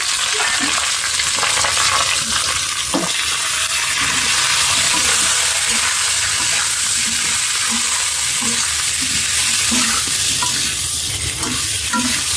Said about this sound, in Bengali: বেগুন ভেজে নিচ্ছি।